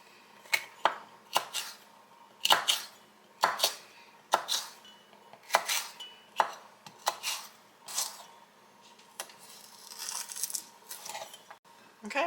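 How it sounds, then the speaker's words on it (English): A knife cuts leftover roast beef into strips, giving a dozen or so sharp clicks and taps on a cutting board in an uneven rhythm, close and fairly clear, with a softer rustle near the end. "I'm just going to slice it into strips"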